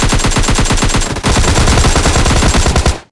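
Loud, close automatic gunfire in a shooting video game, a dense rapid burst of rounds with a brief hitch partway through, then a quick stop.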